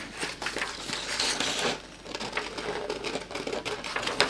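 Scissors snipping paper eyes for an octopus craft, close crisp cuts and paper rustling in an uneven rhythm for a few seconds, with no voice.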